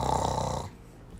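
A single drawn-out snore from a viewer who fell asleep mid-livestream, a throaty rumble lasting about half a second before trailing off into quiet background noise.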